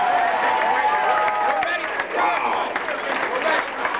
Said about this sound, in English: a round of applause for both these champions